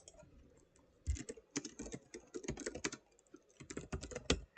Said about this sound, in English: I'll type this in Romanian.